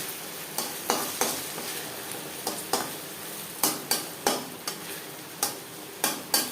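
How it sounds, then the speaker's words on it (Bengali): Egg batter fries in hot refined oil in a kadai for an omelette, a continuous bright sizzle punctuated by sharp, regularly spaced clicks and taps, close and clear with no speech. "এবার দিয়ে দেবো ডিমের ব্যাটার"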